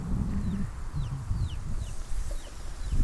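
Soft clucking from hens over a low rumble of background noise, with faint chirps of small birds scattered throughout.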